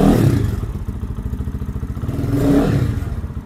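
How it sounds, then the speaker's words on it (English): A Lifan KPM 200 motorcycle engine with a newly installed aftermarket exhaust idles with a steady, close, throbbing pulse that swells briefly as the throttle opens, with no talking. "This exhaust is definitely freer flowing than what the stock exhaust was."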